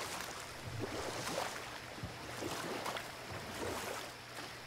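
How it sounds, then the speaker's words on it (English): Waterfall in God of War, a steady broadband rush of falling water with a faint low hum beneath, continuous and moderately distant, no talk. "Oh, that's a waterfall"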